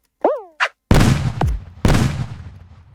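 A couple of short electronic chirps, then two loud, sharp explosive blasts about a second apart in the game Stumble Guys, each trailing off into rumbling noise.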